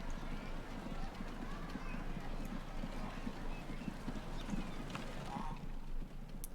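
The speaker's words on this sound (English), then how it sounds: "This is just a wagon. Horse-drawn wagon." Horse-drawn wagon in the Transport Fever 2 video game, with steady clip-clop hoofbeats rolling continuously at moderate loudness over a busy game-world background.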